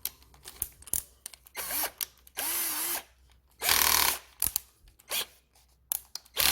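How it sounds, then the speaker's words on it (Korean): A power drill bores holes to mount a top box on a Honda Super Cub motorcycle, in several close, loud bursts of whining spin separated by pauses, with clicks and handling noises between runs. "그리고 이제 여기를 뚫는 거예요 이렇게 뚫는데"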